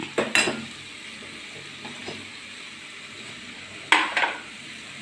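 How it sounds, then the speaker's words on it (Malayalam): Kolli vada mixture with chopped green chillies and curry leaves is stirred in a bowl, giving sparse scraping and clinking knocks, two sharp bursts near the start and another pair near the end, close and fairly quiet. "നന്നായിട്ട് ഇളക്കി കൊടുക്കാം"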